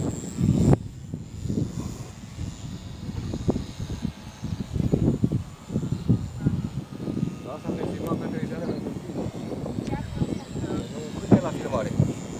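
An electric RC Corsair model airplane flies on battery power, its faint, wavering motor whine rising and falling in the background beneath nearly continuous outdoor conversation.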